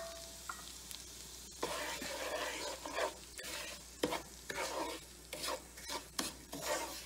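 Semolina stirred through hot ghee with spices in a pan, a soft sizzling hiss broken by repeated scraping strokes of a spoon, close and fairly quiet.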